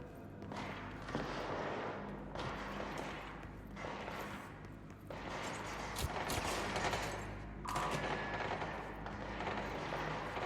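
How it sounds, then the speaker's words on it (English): Gunfire in the video game Control: dense sustained bursts of shots and rumbling blasts that come in waves, fairly loud and continuous, with no speech over them. "we'll go see what all the awesome gunfire's about"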